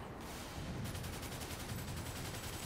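Machine gun fire in Toy Soldiers: Cold War, a dense, continuous rattling burst, fairly faint and muffled in the game mix, with no talk.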